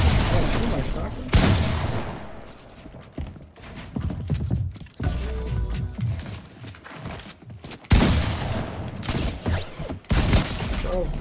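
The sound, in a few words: shotgun gunfire in the video game Fortnite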